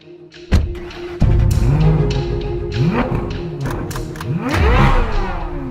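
A 2023 Chevrolet Corvette Z06 with a mid-engine layout revs hard several times, its loud engine note sweeping up and falling back in repeated bursts with a few thumps, close by and with no talk.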